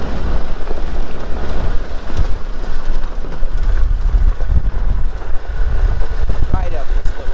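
Suzuki Samurai lifted on big tires, driving in third gear in low range, a steady loud engine drone and rattling cabin rumble throughout, with bumps and knocks from rough ground.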